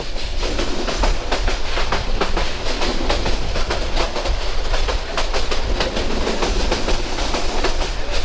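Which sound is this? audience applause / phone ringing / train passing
train passing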